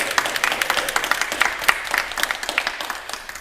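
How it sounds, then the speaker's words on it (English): A game-show studio audience applauds, a dense, lively patter of many hands clapping close by that holds steady and then slowly thins, with no talk over it. "Give him a round of applause, everybody."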